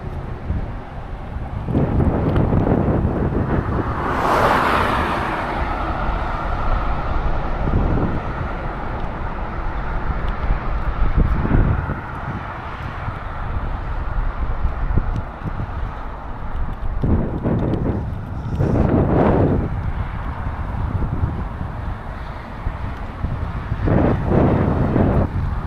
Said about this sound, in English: Seems like the wind just gets worse and worse